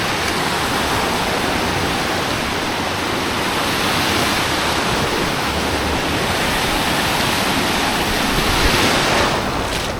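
Steady, loud surf roars across a beach in Sayulita, a continuous wash of breaking waves with no voices over it.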